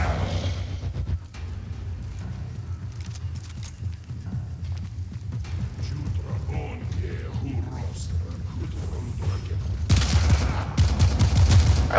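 Gunfire from shooting enemies in Warframe, a steady run of shots and clattering action under continuous rumble, growing louder and denser toward the end, with a voice talking over parts of it.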